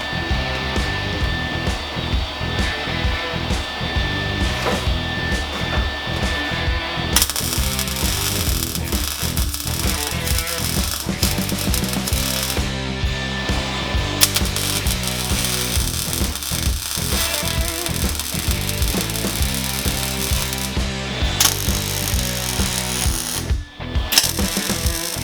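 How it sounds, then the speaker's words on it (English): Welding all around a motorcycle seat frame for a Maxim XJ650 cafe racer build: a loud, continuous crackling, buzzing arc that runs for long stretches with a few brief breaks and no speech. "Now I'm just going to weld it up all the way around."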